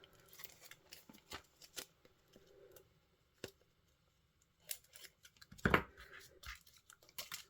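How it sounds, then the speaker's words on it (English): Scissors snip the corners off a handmade shaker card made from packaging, a series of crisp, close cuts in small bursts with paper rustling and handling noises between them. "Cut your corners off."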